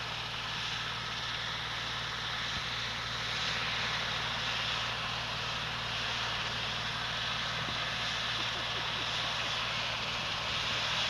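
Lifestar medical helicopter at a 1993 fire department open house, its engine and rotor giving a steady, loud droning roar with a low hum that holds unbroken throughout.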